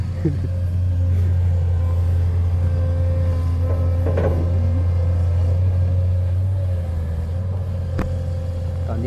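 A Chinese-made excavator runs with a steady, loud low engine drone and deep rumble, joined by occasional clanks and shifts in pitch as it works.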